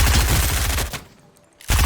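Rapid automatic gunfire in Fortnite rattles loudly in a continuous burst, cuts out for a brief half-second lull, then resumes just as hard.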